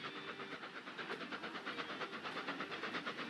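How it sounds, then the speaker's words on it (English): A passenger train runs in the video game Transport Fever 2, a steady close rumble and hiss with a fast rhythmic clatter of wheels running throughout. "Hello, little passenger train."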